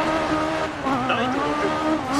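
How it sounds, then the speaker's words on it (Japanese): A rally car's engine roars loudly and steadily on an asphalt stage in the racing game DiRT 4, with a rising whine and a brief tire squeal partway through. "エンジン音がすごいな、"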